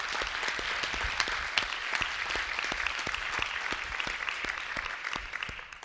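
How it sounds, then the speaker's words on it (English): An audience gives steady applause at an education event, dense continuous clapping from many hands that holds at an even level for several seconds before starting to fade. "Y'all can clap it up for that."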